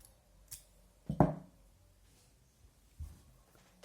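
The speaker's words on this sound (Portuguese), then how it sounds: "Eu vou cortar o fio." Scissors snip knitting yarn in a quiet room, a short crisp cut with a couple of faint clicks around it.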